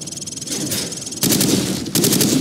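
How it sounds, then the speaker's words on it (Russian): Rapid automatic gunfire from the Call of Duty 4 training range, shots fired from the hip at targets, with loud sustained bursts that pause briefly and then resume, up close with no talk. "Теперь стреляй по мишеням от бедра."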